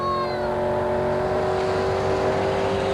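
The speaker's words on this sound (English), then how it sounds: "Out of Chula Vista with the 33 Willys, powered by the big block." A 1933 Willys drag car with a big block engine roars loud and close at a drag strip, its steady engine drone holding for the whole stretch after a brief rising whine at the start.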